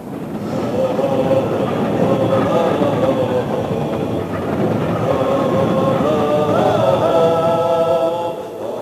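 Steady rumble of an overnight train to Yugoslavia running on rails, with rhythmic wheel clatter and faint metallic squeals throughout, close and continuous.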